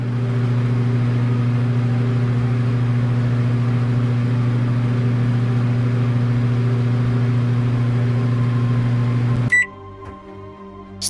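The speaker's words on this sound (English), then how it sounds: "Go inside the kitchen and cook the bacon in the oven for 10 seconds." A steady, loud microwave-style oven hum runs for about nine and a half seconds while bacon cooks in a Roblox game kitchen, then cuts off abruptly with a short beep and a few clicks.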